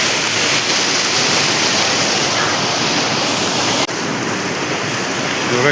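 Water rushes at a full dam, a loud, continuous roar of flowing water close by that stays steady throughout with no voices.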